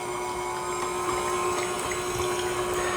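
A mixer stirs eggs into margarita cupcake batter in a pot, giving a steady, even motor whine with a constant tone. It runs close and alone for the whole stretch, with no talking.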